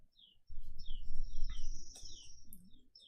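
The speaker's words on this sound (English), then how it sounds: "Freaking birds in the background." Birds chirp and tweet in short bright calls over a low rumbling background, a few brief calls scattered through.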